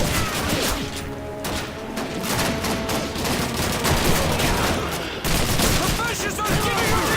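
Dense, loud gunfire from the Call of Duty 2 war game runs almost without pause: rapid rifle and machine-gun bursts with crashing impacts, while a voice talks over the fighting.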